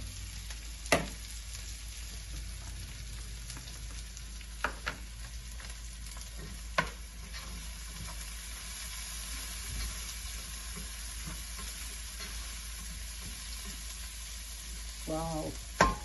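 Garlic sizzles steadily in a hot pan, a constant close frying hiss broken by a few sharp scrapes and taps as it is stirred.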